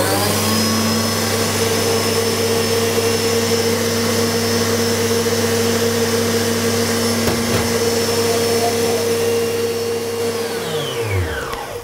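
A kitchen mixer whips cake batter for a flourless poppy-seed gugelhupf until foamy, giving a loud, steady motor whine with a constant hum that runs throughout and then spins down at the very end, with no talking.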